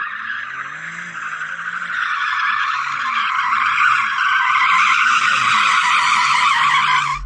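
A BMW launches hard in a drag race against hot hatches and sports cars, tyres squealing loudly over a rising engine note for several seconds, close and continuous with no talk.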